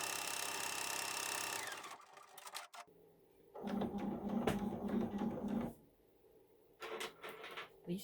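Computerized embroidery machine stitching a spider web design, a dense mechanical whirring and rapid needle chatter that runs in bursts with short pauses and clunks between them, close and fairly loud.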